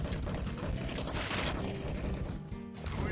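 Gunfire in CS:GO rattles in a dense, fairly quiet burst of rapid shots, followed by a brief lull and then more mechanical clatter.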